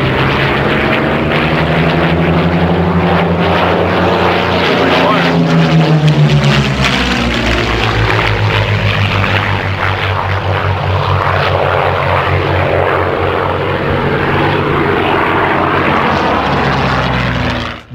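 A Curtiss P-40 Kittyhawk fighter performs a flying display at the Classic Fighters airshow, its piston engine roaring loud and steady overhead, the propeller drone shifting in pitch as it passes.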